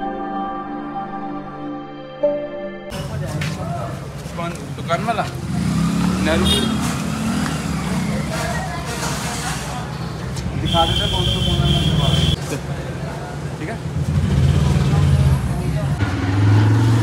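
A Redhorse motorcycle engine rumbles while riding, its loud, rough exhaust note rising and falling under wind noise, following a brief music intro and with occasional talk from the rider.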